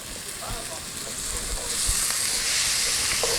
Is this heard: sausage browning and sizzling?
yes